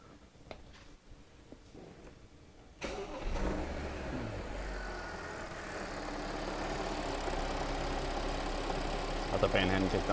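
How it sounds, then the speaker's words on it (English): An Audi car engine cranks over and catches, then settles into a steady idle that holds close and loud for several seconds after a quieter stretch. "I'm just gonna start the car."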